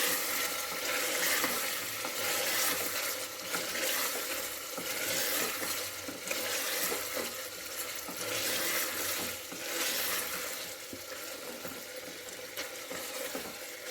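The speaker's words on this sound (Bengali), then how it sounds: "মিট মশলা দিয়ে আবারও নেড়ে চেড়ে নেবো।" Meat sizzles and fries steadily in a pan as it is stirred with meat masala for biryani, a continuous close crackle with soft scraping throughout.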